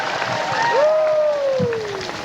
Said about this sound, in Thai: ขอเสียงปรบมือให้กับฟ้าประกอบ สิทธิ์คนอิ่มครับ